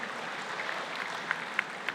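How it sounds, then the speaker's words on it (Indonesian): Applause from a university graduation audience, a soft, steady patter of many hands clapping in a large hall, fairly distant and faint. "Kita berikan tepuk tangan buat para wisudawan kita semua."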